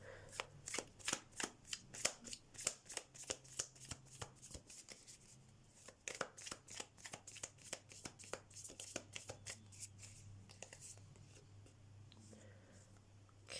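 Oracle cards being shuffled during a tarot pick-a-card reading: a long run of quick, crisp riffling slaps in steady rhythm, close and fairly quiet, with a brief pause partway through.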